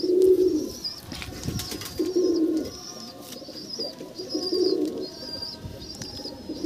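Andhra kalsira show pigeons cooing in a loft, repeated low throaty coos in short bursts close by, with a few thin higher calls from other birds in between and no talk.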